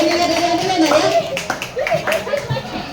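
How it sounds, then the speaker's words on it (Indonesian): Schoolchildren clap their hands during an outreach visit at a junior high school in Tolitoli, with scattered uneven claps mixed under lively voices and some laughter nearby. "Tepuk tangan kita semuanya deh"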